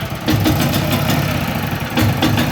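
An old, rattly generator engine runs loud and close, a steady uneven idle with a knocking clatter that holds throughout, with no speech over it.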